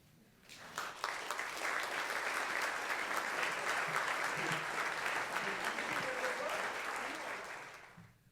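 An audience at a jazz vespers service with the Dave Becker Trio breaks into applause, starting quickly after a brief moment, building to a full sustained wash of clapping for several seconds, then fading out at the end.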